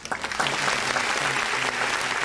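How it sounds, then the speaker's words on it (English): A small group applauds on a live radio broadcast, a soft, steady patter of clapping with a faint low hum and music tones running underneath. "please, everybody, give a little round of applause to my boy Johnny Tats"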